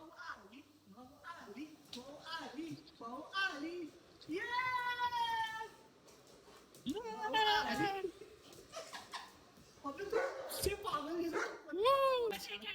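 A dog barks and whines in short, pitched bursts, mixed in with people talking nearby.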